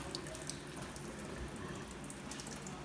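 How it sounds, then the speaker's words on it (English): Pasta water drains into a kitchen sink, a faint, steady rushing splash that carries on throughout. "And then draining the rest of the water out of the pasta."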